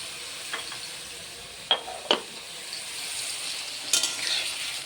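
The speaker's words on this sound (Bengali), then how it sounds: "বেগুনটা ভেজে নিচ্ছি, একটু লবণ দিয়ে ভাজছি।" Brinjal sizzling in a hot pan while being stirred, with a continuous frying hiss broken by a few sharp scrapes and clinks of the spatula against the pan, close by and with no voices.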